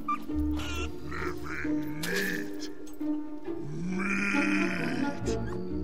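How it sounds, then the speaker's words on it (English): Chickens in the video game Fable 2 cluck and squawk in a series of short, close calls. "there are some chickens conveniently nearby"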